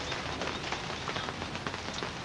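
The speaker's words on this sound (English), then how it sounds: "celebrating Don's birthday at Yosemite in a rainstorm." Steady rain falling on surfaces during a rainstorm at Yosemite, a dense, even patter with scattered louder drops, continuous throughout with no talking.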